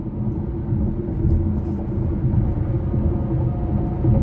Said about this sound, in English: You hear a little bit of road noise on concrete